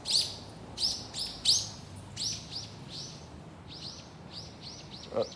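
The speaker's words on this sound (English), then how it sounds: "The birds are having fun." Birds chirp in a steady series of bright, repeated high tweets and short calls, fairly close and clear over a faint background hiss, with no talking.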